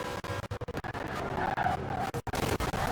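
A 2018 Ford #25 Mustang RTR in Forza Horizon 4 drones with a loud high-pitched engine whine amid tire squeal and skidding, continuous with choppy dips.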